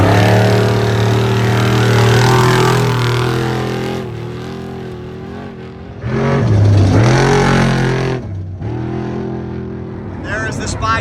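Loud racing truck engines roar and rev close by, pitch sweeping up and down as vehicles pass, with a commentator's voice over the racket.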